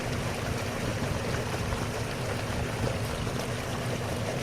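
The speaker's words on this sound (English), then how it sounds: "Hey, there's a waterfall. Right in my road." A small waterfall on a creek gives a steady, even rushing of water throughout, moderately close and unbroken, with no voices.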